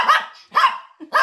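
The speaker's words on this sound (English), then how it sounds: "Oh, you hear the dog barking?" A dog barks three times in loud, close bursts, each a harsh bark with a short tail, in a home kitchen while chicken and noodles are being cooked.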